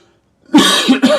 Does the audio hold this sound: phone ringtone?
no